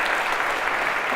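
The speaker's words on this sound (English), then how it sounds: "OK, a round of applause for your" A lecture-hall audience claps in a steady, dense burst of applause that fills the whole short moment at even loudness, with no talking over it.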